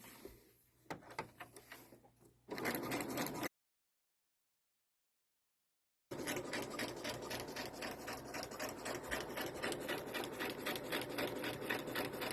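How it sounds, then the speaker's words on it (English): Sewing machine stitching fabric in a steady rapid mechanical chatter, close and loud, with a brief gap while the presser foot is lifted to pivot at a corner before the stitching resumes evenly. "And then I'm going to sew."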